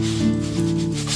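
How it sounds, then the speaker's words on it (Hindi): Crispy air-fried moong dal namkeen rubbed and shuffled by hand, a steady close dry rustle and crunch running throughout with no talking. "एकदम क्रिस्पी वाली जो मूंग दाल की नमकीन होती है"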